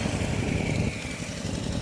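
A tractor engine runs in a rice field during planting season, a steady, low, chugging drone heard from a moderate distance, with no talking over it.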